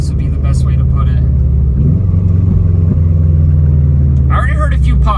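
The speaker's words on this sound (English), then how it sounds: "I already heard a few pops. Did he put some of the burbles on the bass tune?" Subaru STI Forester on a base tune, engine rumbling and burbling steadily from inside the cabin with a few soft exhaust pops, while people talk over it at the start and end.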